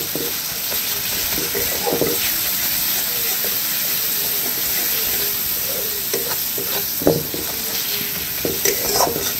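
Chili, cumin and coriander powders sizzle and hiss steadily in a hot pan for chicken patiala, with occasional scrapes and clinks of a spoon as they are stirred.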